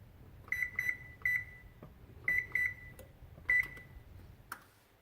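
A kitchen oven emits a series of short electronic beeps as it is set to preheat to 325 degrees, single and double chirps spaced irregularly with soft button clicks between, quiet and close with no talk.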